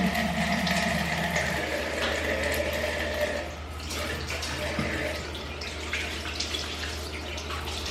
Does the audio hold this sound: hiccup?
no